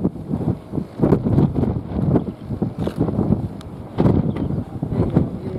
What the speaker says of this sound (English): That is, that's blowing the wind, isn't it?